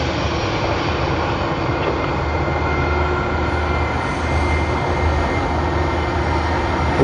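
Jetstar flight JQ503 at Sydney Airport gives a loud, continuous jet engine roar with broad rumble and hiss that holds steady throughout, with no voices.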